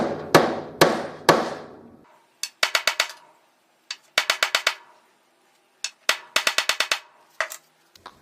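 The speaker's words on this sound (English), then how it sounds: "using a soft face hammer" Three ringing metallic strikes, then several rapid bursts of sharp taps, a soft-faced hammer knocking on the steel headstock of a mini lathe in quick clusters with short pauses between.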